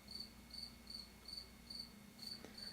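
A cricket chirps in steady, evenly spaced bursts throughout, fairly faint and close against a low background hum, with no talk over it.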